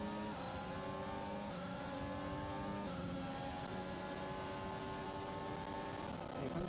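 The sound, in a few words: crackling car engine audio in F1 2021 video game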